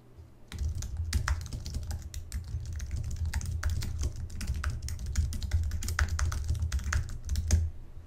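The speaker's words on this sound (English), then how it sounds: "Let me go ahead and um, type something in." Rapid, close clicks of fingers typing on a computer keyboard, keys pattering steadily for several seconds over a low background hum.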